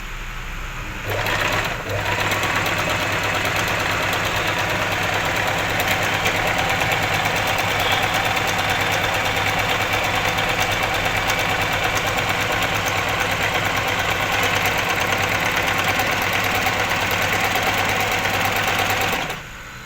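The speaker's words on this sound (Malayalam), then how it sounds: "നമുക്കൊന്ന് തയ്ച്ച് നോക്കാം" A Singer Start 1306 sewing machine stitches fabric in one long, steady run of close, loud motor whir with a rapid needle rhythm, starting abruptly and stopping at the end, with no talking.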